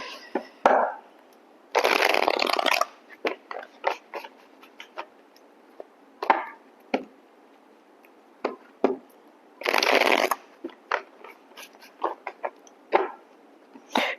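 Witches' tarot cards shuffled by hand, two loud riffling bursts separated by scattered soft clicks and taps of cards being handled, close and quiet between, with no voices.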